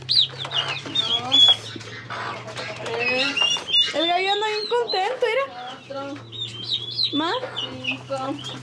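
A rooster and hens on a farm cluck and call repeatedly, with bright crowing-like cries and chattering clucks overlapping across the stretch, fairly near, over a steady low hum.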